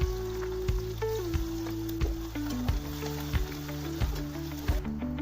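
Chopped onion and dried red chillies fry in hot oil, giving a steady hiss and sizzle with soft, regular low thumps and stepped tones beneath.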